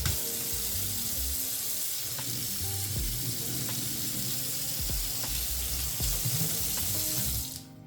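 A kitchen sink tap runs in a steady, full rush of water that stays near and fairly loud, then cuts off abruptly at the very end, with no one talking.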